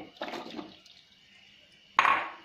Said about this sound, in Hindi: अब इसमें हम कमल ककड़ी भी डाल देंगे।